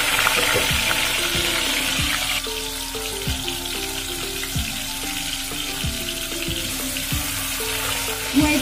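Potatoes fry in hot oil for aloo dum biryani, a continuous close crackling sizzle with a steady hiss running throughout, punctuated by recurring soft clicks and taps.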